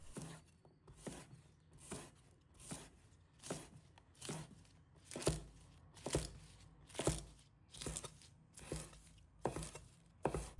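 A knife chops garlic stalks into short pieces on a board in a home kitchen, with about a dozen crisp, evenly spaced strikes close by and no talk.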